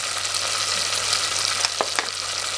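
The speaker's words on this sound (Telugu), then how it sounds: "అల్లం వెల్లుల్లి పేస్ట్ కాస్త వేగాక" Ginger garlic paste frying in a pan for a spicy fish gravy gives a steady close sizzle with a few faint stirring scrapes, and no one speaks.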